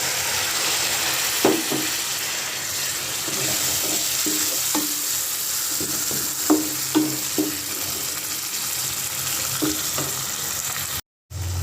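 Spice masala for a spicy hotel-style shingara filling fries in a pan with a little added water. It gives a steady, close sizzle, broken by several sharp stirring scrapes and knocks, and cuts out for a moment near the end.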